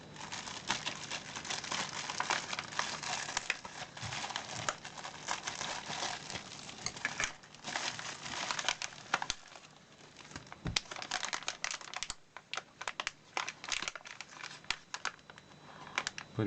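Crinkling of an antistatic plastic bag as a parcel holding an induction heater is unpacked, close and fairly quiet, with irregular rustles, taps and handling noises throughout.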